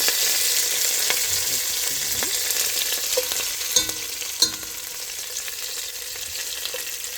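Curry leaves and green chillies frying in hot oil, giving a loud, steady, close sizzle that runs throughout, with a few faint clicks of stirring and no speech.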